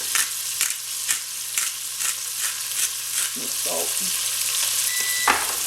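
Rice sizzling and frying steadily in a pan with onions and green pepper, a continuous bright hiss broken by rhythmic stirring scrapes, with one brief spoken word over it.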